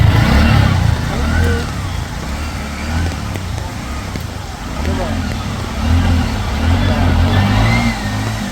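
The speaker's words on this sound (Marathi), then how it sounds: "बघा रिक्षा पण बघा ना" An auto rickshaw's engine runs steadily through a waterlogged street in Kalamboli Sector 4 after heavy rain, with continuous nearby traffic and road rumble throughout and a voice talking over it.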